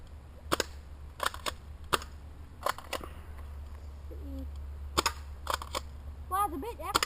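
A cheap airsoft Mossberg pump shotgun fires plastic BBs with the hop-up on, producing sharp, snappy cracks in irregular bursts and a few pump clacks, with a brief voice near the end.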